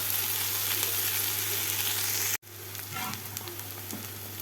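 Leftover cooked meat and peppers frying in a pan give a steady, close sizzle, briefly cut off for a moment midway and then resuming with light stirring scrapes.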